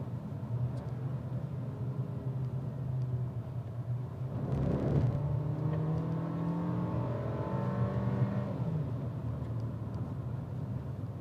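A Changan CS75 SUV accelerates in manual mode, its engine note climbing and dropping through abrupt gear changes, heard from inside the cabin as a steady moderate rumble with no talk over it.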